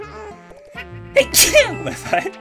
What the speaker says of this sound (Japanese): ゲームやりながらね、くしゃみしちゃうもんね、